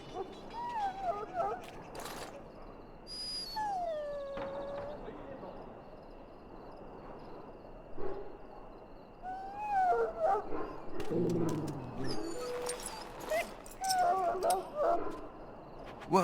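In Dragon Age: Origins a dog whimpers and howls in rising, wavering cries with sharper barks later, amid footsteps and intermittent speech.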